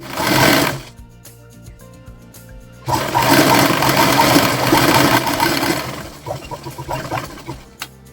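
A sewing machine stitches a piece of shopping bag onto a zipper chain in loud, whirring bursts, a short run at the start and a longer run later, separated by quiet pauses and fabric handling.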